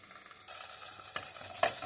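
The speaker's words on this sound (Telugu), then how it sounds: "1/2 టేబుల్ స్పూన్ అంత అల్లం వెల్లుల్లి పేస్ట్ వేస్తున్నాను." Ginger garlic paste hitting a hot pan for ganji, a sudden sizzle that rises with a few sharp stirring scrapes, close and brief.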